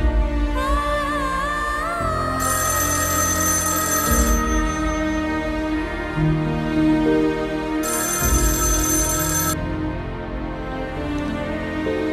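A telephone rings with a repeated electronic warble, loud and close, in bursts separated by short pauses, over a sustained musical background with no talking.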